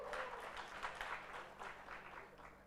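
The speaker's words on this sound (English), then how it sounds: "Please clap for Media Challenge Initiative." Audience applauding at the Media Challenge Fellowship graduation ceremony, a steady faint wash of many hands clapping throughout, heard from a distance.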